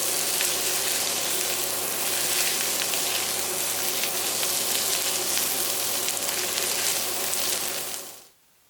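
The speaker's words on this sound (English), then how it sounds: "cook over a medium heat for 5 to 7 minutes, stirring occasionally until the vegetables have all softened" Vegetables softening in a pan over medium heat, stirred now and then while cooking for a Brazil nut loaf: a continuous close, steady sizzle with faint stirring clicks, cutting off abruptly at the very end.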